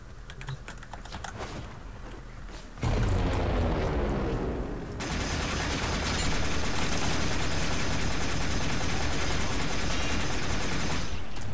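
Boltor Prime rifle firing in Warframe, a long sustained burst of rapid automatic shots that starts abruptly after a short stretch of clicking keyboard and mouse, loud and continuous for several seconds.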